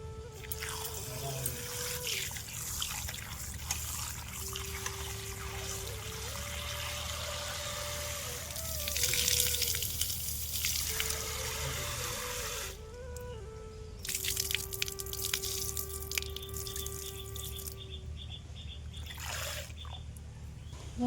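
Tap water runs steadily while cut potatoes are washed, a continuous splashing trickle with a low pump hum underneath and occasional louder gushes.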